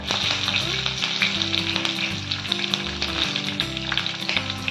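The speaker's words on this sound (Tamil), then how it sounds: "எண்ணெய் காந்துடுச்சு தாளிப்புக்கு பட்டை கிராமம் லவங்கம் ஏலக்காய் ஆட் பண்ணிக்கலாம் பச்சை மிளகாய் ஆட் பண்ணிக்கலாம்" Cinnamon, cloves, cardamom and green chillies tempering in hot oil for a spiny gourd dish, giving a loud, continuous, crackling sizzle heard up close, with a steady tonal hum running underneath.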